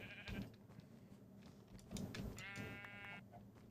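Quiet Minecraft sheep bleats sound twice, short and nasal, over soft background noise.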